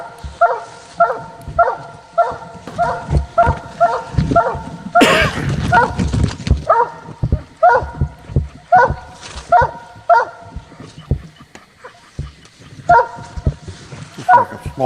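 Coonhounds squall at a tree during a night hunt at the Coonhound World Championship Finals, with repeated rhythmic bawling barks from several dogs. A loud burst of noise breaks in midway, and people talk underneath.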